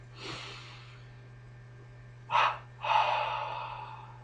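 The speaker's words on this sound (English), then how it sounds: "The breath sounds as a deep double inhalation, short on the first, long on the second, as such. Out of the mouth on the exhale." Yoga breathing exercise: a short sharp inhalation, a brief pause, then a longer second inhalation flowing into an audible mouth exhale, close and fairly quiet over a steady low hum.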